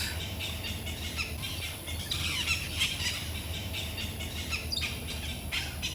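Parrots in the jungle around Palenque, chirping and squawking in a dense, continuous chorus of bird calls against a steady background of insects and ambience, with no voices.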